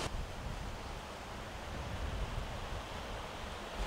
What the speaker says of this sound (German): Darf ich vorstellen, der Kunene River, Grenzfluss zu Angola.